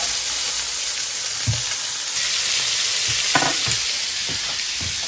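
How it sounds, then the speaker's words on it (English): A lemongrass pork burger sizzling loudly and steadily in a frying pan after being flipped, with a few soft scraping bumps from the turner and no talking. "why don't I flip this one that I put on first"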